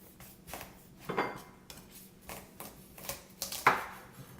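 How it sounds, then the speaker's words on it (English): A knife chops through a tough spaghetti squash on a board, giving a handful of sharp, separate cutting thuds with short gaps between them. It is close and moderately loud, and no one speaks. "We got the spaghetti squash. We're going to go ahead and cut this up."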